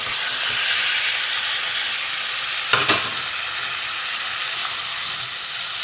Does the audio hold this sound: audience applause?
no